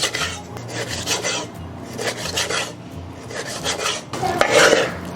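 A knife cuts a yellow croaker fillet into slices at an angle on a board, a run of close, repeated rasping strokes with soft scrapes and light knocks between them.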